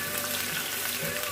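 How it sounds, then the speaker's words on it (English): Onions frying in hot palm oil, a steady close sizzle with a bright crackling hiss throughout, no voices. "So add my onions and let it simmer for 30 seconds."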